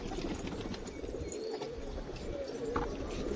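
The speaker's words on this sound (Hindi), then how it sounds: "कबूतरों को झाक सर्दी हो गई है, कबूतर छींक रहे हैं सारे।" Pigeons said to have a cold coo softly and continuously at close range over a dense background hiss. The murmuring calls overlap one another, and no distinct sneezes stand out.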